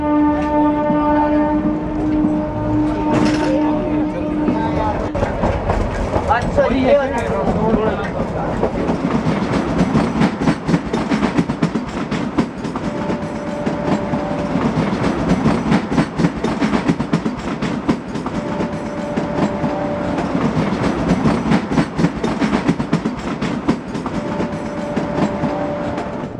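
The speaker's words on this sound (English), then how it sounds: "Here we go, pulling away on the toy train." A small toy train rolls along its track in India with a continuous rattling clatter, a whistle-like tone sounding early, then steady rhythmic clicking.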